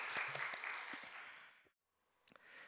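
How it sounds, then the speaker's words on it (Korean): A church congregation at a Wednesday worship service applauds the choir with a dense wash of clapping that cuts off abruptly, followed by a moment of silence and faint room sounds. "할렐루야 성가대분들에게는 격려의 박수 다시 한번 하겠습니다"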